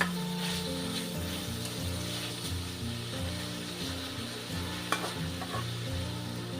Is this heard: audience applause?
no